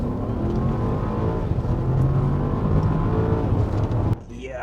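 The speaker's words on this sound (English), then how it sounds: "Let's listen to that V8 once again and launch it off the line." A Bentley Bentayga EWB's V8 engine roars loud and close as the SUV launches off the line, a sustained heavy drone building slightly before cutting off sharply near the end.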